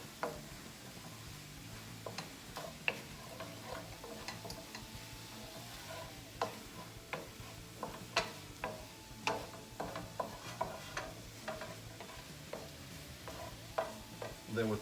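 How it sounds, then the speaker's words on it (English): Eggs and potatoes frying in a pan at breakfast, a quiet steady sizzle broken by frequent sharp ticks and scrapes of stirring, faint and close, with no talking. "So we're just going to cook these long enough for the egg to cook,"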